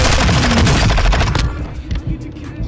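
Rapid automatic gunfire in Call of Duty Warzone, loud and close, a dense burst of shots lasting over a second before cutting off into quieter game ambience.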